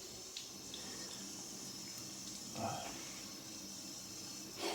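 Tap water runs steadily into a bathroom sink while someone rinses off after a face shave with a Feather AC razor and mug soap lather. The hiss stays close and continuous, with brief splashes partway through and again at the end.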